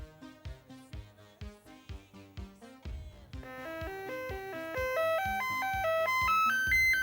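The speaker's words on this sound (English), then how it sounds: "So you will be able to hear the sound of a good working SID." A healthy Commodore 64 SID chip plays bright synthesized tones: first a bouncy bass-and-chord pattern of short repeated notes, then a sustained rising and falling arpeggio melody, loud and close, with no talking.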